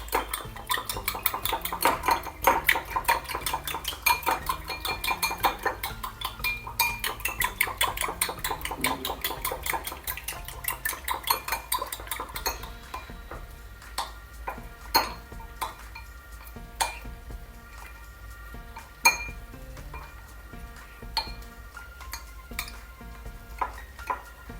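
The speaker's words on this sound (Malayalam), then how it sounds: "ഇത് നല്ലതുപോലെ ഒന്ന് മിക്സ് ചെയ്യാം." A utensil beats an egg and soy sauce mixture in a bowl, producing rapid, rhythmic metallic clinking that slows to sparser, scattered taps in the second half, moderately loud with no voices.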